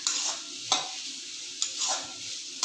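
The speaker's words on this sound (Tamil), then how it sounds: "நல்லா மிக்ஸ் பண்ணி விட்டு நல்லா கொஞ்சம் வதக்கிக்கோங்க." Vegetables for spring rolls sizzle steadily in a pan while being stirred, with a soft continuous frying hiss and periodic louder scraping strokes from the spoon, close and alone.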